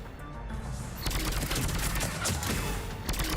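Rapid automatic fire from the Indra rifle in the video game Mass Effect 3 bursts in after a brief quieter moment, then continues as a dense, loud rattle of shots until the end.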